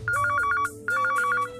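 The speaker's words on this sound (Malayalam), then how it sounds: "ഞാൻ വിളിക്കുന്ന ഈ കോൾ അനന്യനെ ഒന്ന് എടുക്കണേ" A telephone rings in two quick trilling bursts separated by a short gap, loud and close, with no voices.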